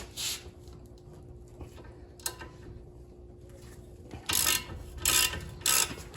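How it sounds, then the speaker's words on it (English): A ratchet loosens an 18 mm bolt on a SAAB coilover while lowering a Malibu MAXX. After a faint click near the start, three loud, close bursts of rapid clicking come in quick succession, with no talk. "All right, so this is an 18 millimeter."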